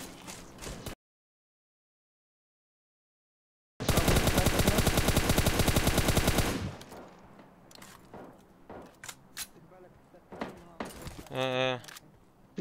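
Video game shooter gunfire: a loud, close burst of rapid automatic fire lasting about three seconds, followed by scattered shots and clatter. Voices talk during the quieter part.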